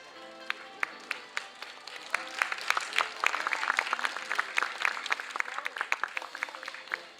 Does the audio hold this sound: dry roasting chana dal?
no